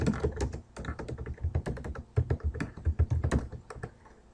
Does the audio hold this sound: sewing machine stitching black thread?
no